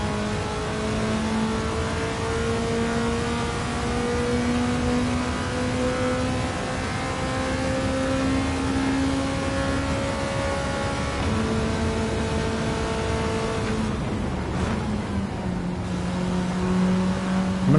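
A Ferrari Mondial engine in Gran Turismo 7 revs steadily and loudly, pitch climbing through the gears with brief dips at each shift, a continuous mechanical drone with no voices.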